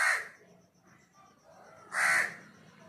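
A crow cawing outdoors: two loud, harsh caws about two seconds apart, with a faint high chirping and a quiet murmur of background noise in between.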